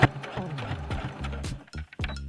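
A sewing machine stitches plush fabric up close, a rapid mechanical chatter in short runs with brief stops and restarts.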